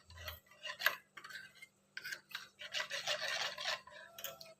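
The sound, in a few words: stirring spice masala into water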